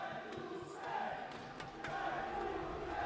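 Live crowd at a Tekken 8 fighting game tournament cheering for a player, thunder sticks in the mix, heard at moderate distance as a sustained roar with swelling peaks.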